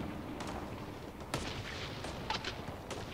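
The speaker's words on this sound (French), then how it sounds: "Ah ouais, ça tire et tout." Sporadic gunfire inside an alien base in Mass Effect Andromeda, a few sharp distant-sounding shots spread over a steady background rumble, with one louder crack standing out.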